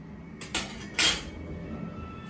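A pot of boiled chicken is lifted off a gas stove, giving two short metallic clanks of cookware, the second louder, against quiet kitchen background.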